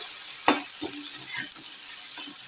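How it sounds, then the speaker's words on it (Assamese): Okra and potato with green chillies and spices are stirred in a pan, giving a brief close scrape of the spoon over a faint steady sizzle, with a few softer stirring scuffs after it. "এটা গোটেইখিনি মিক্সকৈ লৰাই লওঁ"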